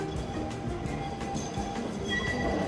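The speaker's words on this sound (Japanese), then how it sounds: "さっき商店街で見かけた路面を走る京阪電車" A four-car Keihan electric train runs on street track through a town in Otsu, Shiga, giving a steady, moderately distant rail rumble with faint metallic squeals.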